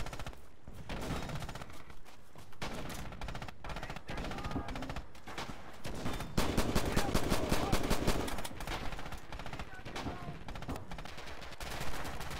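Rifle and machine gun fire in the video game Red Orchestra 2 runs in dense, continuous bursts with sharp single shots mixed in. It is loud and near throughout, and a voice is faintly heard beneath it.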